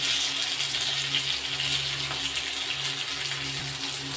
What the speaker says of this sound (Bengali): এবার আমি দিয়ে দিচ্ছি আগে থাকতে কেটে রাখা টমেটোমের কুচিগুলো